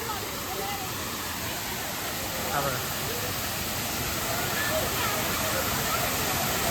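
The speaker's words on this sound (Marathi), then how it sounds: "ते बघा वॉटरफॉल बनवला आहे" A man-made waterfall in a city park produces a constant broadband rush of falling water, loud and steady throughout, with faint voices underneath.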